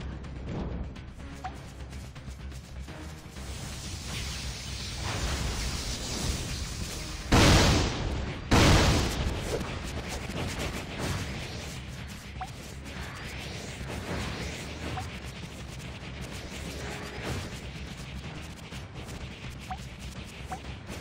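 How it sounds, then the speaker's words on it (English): Firecracker skill exploding in Ragnarok Origin amid dungeon combat, with two sharp loud blasts near the middle over a steady layer of game effects and music. "Firecracker."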